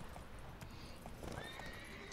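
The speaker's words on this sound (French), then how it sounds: "Il y a des chevaux en liberté." Free-roaming horses in the video game The Witcher 3: Wild Hunt trot past with a quick, steady clip-clop of hooves and a brief whinny, fairly faint under a wide outdoor ambience.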